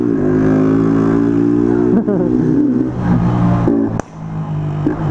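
A fuel-injected motorcycle engine revs loudly and close up, holding a steady throttle with brief dips around the two- and four-second marks before climbing again, with no voices.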